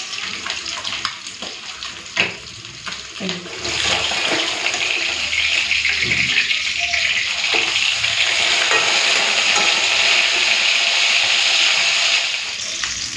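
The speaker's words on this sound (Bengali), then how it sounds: "তো মাছ ভাজাটা উল্টিয়ে দিয়েছি" Bhetki fish frying in hot oil makes a steady, loud broadband sizzle close by. Scattered clinks and shuffles come first, then the crackle holds evenly for several seconds.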